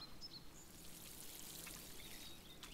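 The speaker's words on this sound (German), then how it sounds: "Die anderen gießen wir natürlich auch." Watering plants with a watering can in the video game Wylde Flowers, a soft steady pouring trickle of water that runs evenly throughout, faint and alone with no talking.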